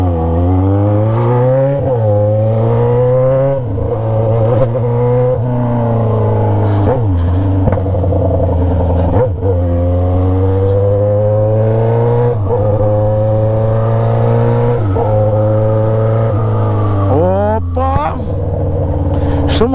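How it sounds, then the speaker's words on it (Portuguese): Yamaha XJ6 motorcycle with a three-inch Atalla exhaust revs repeatedly, loud and close, each blip rising and falling over a steady idle rumble, with a voice briefly heard. "E estamos testando um escapamento."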